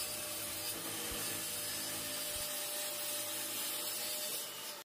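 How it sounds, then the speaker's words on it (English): A track saw rips a pippy oak board: a continuous, fairly quiet broadband rasping roar holds steady throughout, with no talk. "I ripped it down using the track saw, doing this in two passes to make it a little bit easier on the saw"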